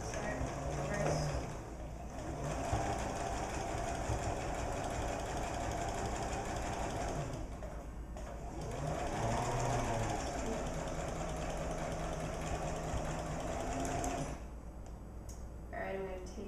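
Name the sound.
sewing machine stitching a straight stitch line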